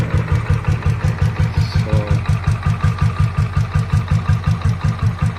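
A Bullet Machismo 500 LB motorcycle, stock with a 5-speed gearbox, idles close by with a loud, steady, even thumping beat that holds a smooth regular rhythm throughout.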